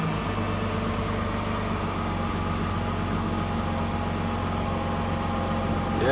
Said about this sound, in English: Turn on the AC.